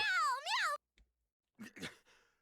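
A character in the fighting game BlazBlue Calamity Trigger lets out a loud, rising-and-falling cat-like meow, followed after a short pause by a brief second voiced cry trailing off.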